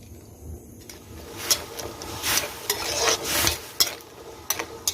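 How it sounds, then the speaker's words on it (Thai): Fermented fish paste roasts in a pan with a little water, and a spoon scrapes against the pan in repeated strokes over a soft, close bubbling sizzle. "ตั้งกระถางใส่น้ำไปหน่อยครับมันจะคั่ว คั่วในน้ำนะครับ มันจะได้สุกง่าย"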